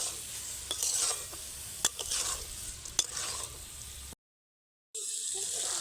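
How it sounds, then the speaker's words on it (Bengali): Soaked rice stir-fried over medium heat in a kadai, with steady sizzling and a few sharp scraping strokes of the spatula, close by, cutting out briefly before resuming. "একদম মিডিয়াম আঁচে 3 থেকে 4 মিনিট কষিয়ে নেব চালটাকে"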